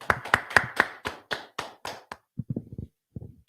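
A group claps in a quick rhythmic run of about nine sharp, close claps, then softer scattered claps and taps follow at lower volume, with no talking.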